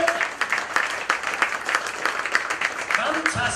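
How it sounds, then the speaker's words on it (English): An audience at a live comedy mind-reading show applauding, a steady dense patter of many hands clapping that carries on throughout, fairly close and loud, with a voice briefly audible near the end. "give yourselves a huge round of applause"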